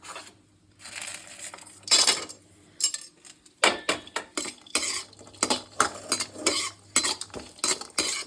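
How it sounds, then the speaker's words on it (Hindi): Dry coconut roasting in leftover ghee in a pan while making moong dal laddoos, with a close metal spoon scraping and stirring in irregular bursts over a faint sizzle, no voices. "अब मैं गरी भून लूँगी इसमें।"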